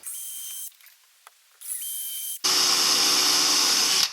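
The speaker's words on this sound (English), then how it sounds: "we're actually going to use a drill bit to drill a pilot hole" Power drill with a bit boring a pilot hole during a camper van pull-out bed build: a whining motor burst, a pause, a second burst, then a louder, steadier drilling roar close by.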